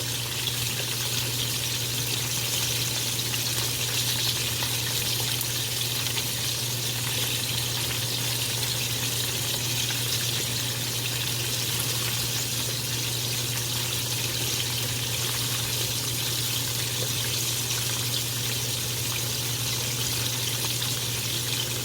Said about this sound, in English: But it's frying over here, y'all.